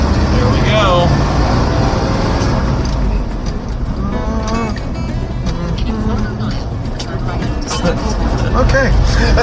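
Cabin rumble of a 4-wheel-drive crew cab tow truck with a 4-speed gearbox on the move, a steady loud drone throughout with voices talking over it.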